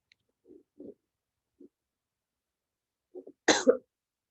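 A few faint throat sounds and small stirrings, then one short, sharp cough near the end, close to the microphone in a quiet room.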